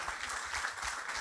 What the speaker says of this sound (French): Applaudissements pour l'encourager